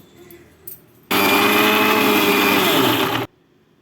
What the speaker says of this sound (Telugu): వీటికి మిక్సీ పట్టుకోవాలి